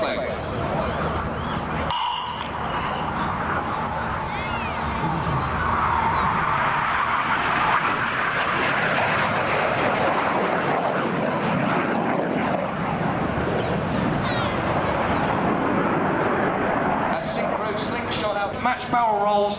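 Red Arrows jets fly a formation display at RAF Waddington, their engines producing a broad, continuous roar that swells and shifts as they pass, with a commentator talking over it throughout.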